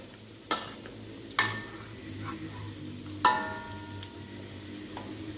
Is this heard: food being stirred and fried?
yes